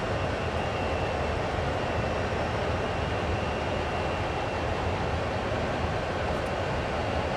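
Two CSX heavy haul locomotives run in Train Sim World, giving a loud, steady, droning diesel rumble with broad mechanical noise that stays constant throughout.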